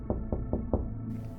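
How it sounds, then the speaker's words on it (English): Four light knocks on a wall land at an even, unhurried pace, soft dull thuds close by, followed by a brief quiet tail. "I knocked on it lightly."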